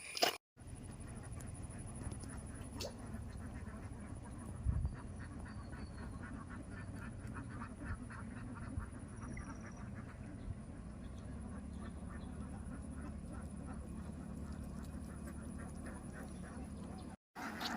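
Many ducks quack steadily at close range throughout a Kerala village scene, with a dense chorus of overlapping calls and occasional louder honk-like bursts.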